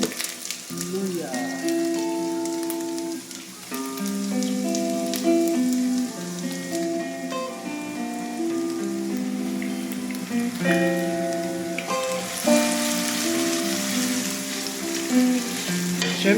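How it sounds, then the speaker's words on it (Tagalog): Vegetables and ginger sautéing in leftover frying oil for a green jackfruit and coconut milk dish, a steady sizzle and crackle running under continuous music with tonal melody throughout. "dito na po natin igigisa sa ating pinagprituhan ng ating"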